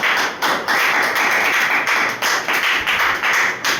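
Loud, dense clapping from a crowd at a direct-selling business plan presentation, sustained and continuous with slight surges, no voices over it.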